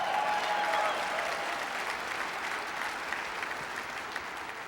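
Audience applause at a political rally in Idaho, a broad steady patter of many hands clapping that holds for several seconds and slowly tapers in loudness.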